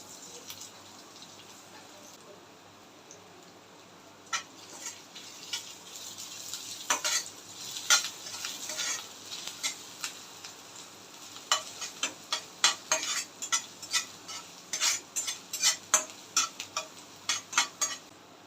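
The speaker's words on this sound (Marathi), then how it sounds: "पॅनला गरम झाल्यानंतर ह्यामध्ये ऑइल घालायचं क्रश केलेलं अद्रक लसूण आणि हिरवी मिरची" Crushed ginger, garlic and green chilli fry in hot oil in a pan, with a soft sizzle under repeated metal spoon scrapes and taps that grow busier and louder as the stirring goes on.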